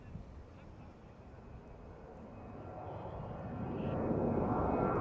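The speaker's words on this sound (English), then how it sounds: "Here comes a big plane, and that is not a snowbird." A large airplane passes overhead at a Fleet Week air show, a steady broad engine roar that swells louder toward the end as it nears, with no talk over it.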